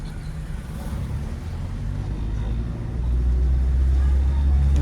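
Car engine in a driving-school car revving and gaining speed on narrow lanes, a steady low rumble that grows louder and deeper toward the end, with an instructor's speech faint underneath.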